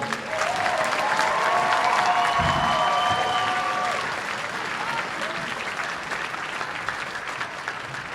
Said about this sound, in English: Let's give one more round of applause to the 5th grade band.